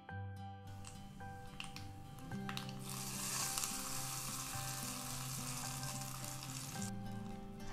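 Mustard seeds and curry leaves crackle and sizzle in hot oil for a chutney tempering, a steady bright frying hiss with scattered pops that swells partway through, while a melodic tune plays quietly underneath.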